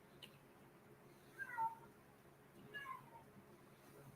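A cat meows twice, about a second apart, faint against a quiet room background, with no talking during the calls.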